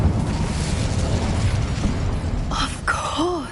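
Incendio fire spell cast in the video game Hogwarts Legacy, a loud rumbling, explosive burst of flame with a whooshing roar, followed by bright chiming magical tones near the end.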